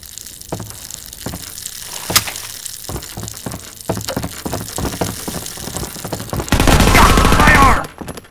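Gunfire in Garry's Mod on a Half-Life 2 map, with repeated sharp shots spaced through the clip and then a dense, loud sustained burst of automatic fire near the end.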